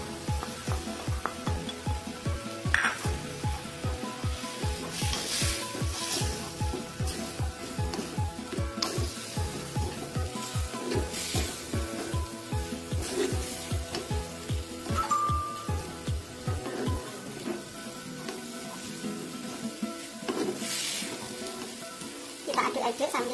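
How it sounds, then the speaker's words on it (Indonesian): Cashew fruit sizzles and fries in a pan while being stirred, a steady dense crackle with rhythmic scraping strokes of the utensil that stops near the end. "Aduk-aduk sambil menunggu hingga airnya menyusut."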